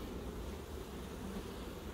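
Honeybees swarm around an opened hive during an inspection, giving a continuous low buzzing drone that stays steady and quiet throughout.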